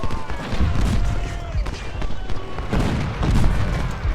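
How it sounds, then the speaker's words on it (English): A massed infantry musket volley in the Civil War strategy game Ultimate General: Civil War, a dense rolling crackle of gunfire and dull booms over a continuous battle din. "Fire a volley!"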